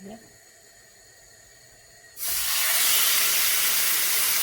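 Marinated meat chops drop into a hot pan, which is not cast iron. A quiet stretch gives way to a sudden loud, steady hiss of sizzling that carries on to the end.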